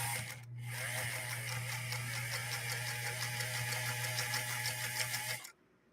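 A Pfaff 130-6 sewing machine runs steadily for about five seconds, a constant mechanical whir with a low motor hum and rapid needle chatter, then stops abruptly.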